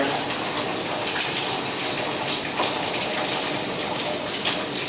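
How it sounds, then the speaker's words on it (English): Steady pouring and sizzling hiss of eggs poured into a hot buttered pan, a continuous broadband wash with no talking, close and fairly loud throughout. "We're going to go ahead, pour that in, pour the eggs in there."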